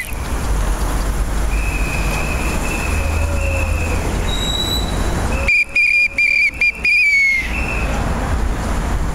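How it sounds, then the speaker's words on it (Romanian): Loud whistles blown outside city hall during a cycling protest, sustained shrill blasts joined by a cluster of sharp staccato toots near the end over a dense crowd din. "Nu putem să nu fluierăm primăria,"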